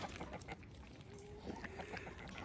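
Backyard chickens clucking in a busy, overlapping chorus of short, close clucks, with a few longer calls rising above the steady flock chatter, a rooster among them.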